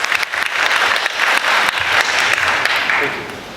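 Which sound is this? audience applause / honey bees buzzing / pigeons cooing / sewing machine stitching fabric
audience applause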